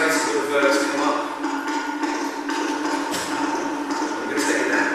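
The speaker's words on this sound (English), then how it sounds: "So I've automated the reverb to come up." A clave in a house track taps out a steady rhythmic pattern of bright, repeated hits, with reverb building into a washy, sustained tail behind them.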